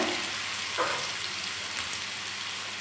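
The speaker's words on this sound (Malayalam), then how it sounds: "നമ്മുടെ വെളിച്ചെണ്ണ ഒന്ന് ചൂടായി വരുമ്പോഴത്തേക്ക് നമുക്ക് വേണമെങ്കിൽ ഒരു ശകലം ഇഞ്ചി വെളുത്തുള്ളി പേസ്റ്റ് ഇട്ട് കൊടുക്കാം" Ginger garlic paste sizzling in hot coconut oil while a quail egg masala is cooked: a steady, close, hissing fry with a brief splutter partway through.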